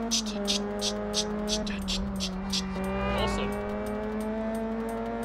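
Car engine from the Test Drive Unlimited racing game on PS2, a steady, loud revving drone with gear shifts and rising pitch as it accelerates, rapid clicking ticks above and occasional tire noise, with no speech over it.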